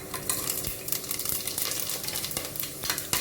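Cinnamon, cloves and fennel seeds dropped into hot oil for prawn biryani give a steady close sizzle with some stirring scrapes and clinks, continuous and moderately loud with no voices.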